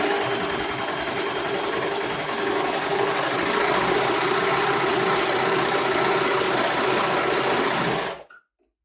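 A Baby Lock Desire3 combination machine sews a chain stitch through fabric, running loud, close and steady for about eight seconds before it stops abruptly.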